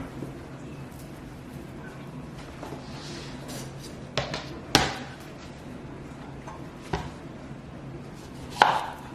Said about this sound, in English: So I'm just cutting some lemons